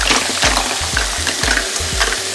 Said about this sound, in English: I'm going to plonk these mussels straight into there